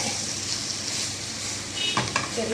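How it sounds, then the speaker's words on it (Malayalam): Chicken sausage frying with masala powder, a constant close sizzle with a couple of brief scrapes of a spoon stirring in the pan, no talk. "ഇത് എല്ലാം കൂടെ ഒന്ന് ഇളക്കി"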